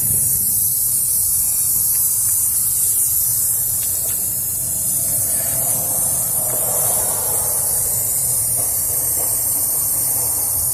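Pressurised boost air escaping at a clamp on the intercooler pipe of an Isuzu NPR/NRR diesel truck, a loud continuous hiss over a low running-engine rumble, with no talking.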